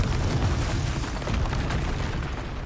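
Confringo spell blast in the Hogwarts Legacy video game, a dense, loud burst of explosive rumble that fills the short moment without letup.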